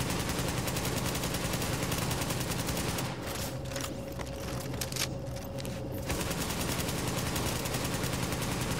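Continuous automatic gunfire in The Division 2 video game, a loud steady stream of rapid shots that briefly eases in the middle before resuming at full intensity.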